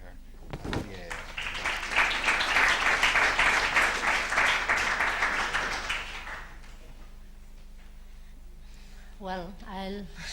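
Lecture audience applauding to welcome a speaker, steady clapping that swells and holds for several seconds before dying away, then a voice begins speaking.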